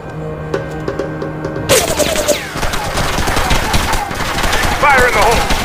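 Gunfire erupts in SOCOM U.S. Navy SEALs Fireteam Bravo 3 after a quieter opening with a soft tonal background, then dense, loud automatic shooting rattles on continuously to the end.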